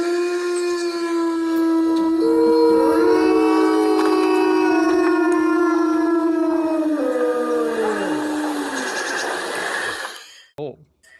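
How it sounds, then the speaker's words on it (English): Several long, overlapping howls are played as a sound effect during a tabletop game session. Loud, layered wails slide and waver together for about ten seconds before cutting off abruptly. "you hear several howls"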